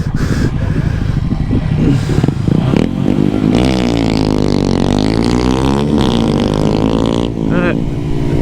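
Several Honda Grom motorcycles race at Bushnell, their small engines revving and climbing in pitch with sweeping passes near and away, mixed with clatter and scraping, and people talking over the noise.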